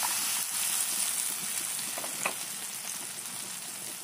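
Chopped onion and green chili fry with cumin in oil in a kadai, giving a continuous, even sizzle with faint stirring in the background.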